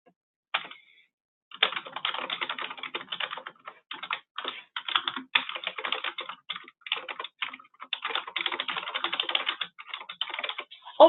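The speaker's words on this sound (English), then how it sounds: "So I'm going to go ahead and type here" Fingers type in quick, uneven bursts on a computer keyboard, the close, crisp key clatter starting after a brief pause and continuing with short gaps throughout.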